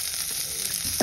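Chopped onions hit hot oil in a pan for a salmon Bicol Express, giving a steady, close frying sizzle that swells slightly louder at the very end.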